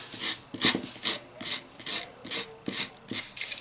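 Dried decoupage material is scraped off a craft canvas in a steady series of short rasping strokes, roughly a dozen evenly paced passes, close and fairly quiet, with no talking.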